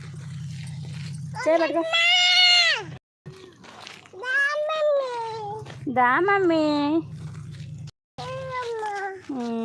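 A cat meows loudly and close by near a farm field, several drawn-out cries in a row, with a person speaking briefly between them.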